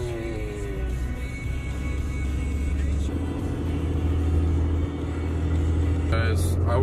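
A loud Cummins diesel truck engine runs with a heavy, steady low rumble up close, the drone continuing unbroken while people talk nearby.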